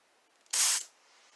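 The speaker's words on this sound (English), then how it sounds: "I'm gonna spray the room with some room spray." A single short burst of Japanese cherry blossom room spray hisses close by, a sharp aerosol puff lasting about a third of a second in an otherwise quiet room.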